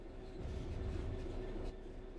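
A train in Train Sim World 3 rumbles steadily while braking toward a stop, with a constant low roar and a thin sustained tone running through it, and no one speaking.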